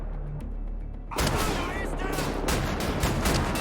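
Shotgun fire in Wolfenstein: The New Order, a sudden loud blast about a second in followed by dense echoing gunfire and rumble, with a voice faintly talking underneath.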